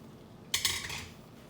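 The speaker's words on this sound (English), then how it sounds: "And give that a good stir." Pasta noodles stirred in a cooking pot for creamy tomato and spinach pasta, giving a short burst of scraping and clinking that starts suddenly and fades within about half a second.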